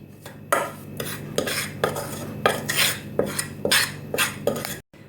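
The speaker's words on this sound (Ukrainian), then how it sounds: "Тепер потрібно гарненько перемішати." A spoon stirs and clinks against a bowl of salt, vinegar and spice mixture in steady, rhythmic scrapes, about a dozen strokes, close by with no voices.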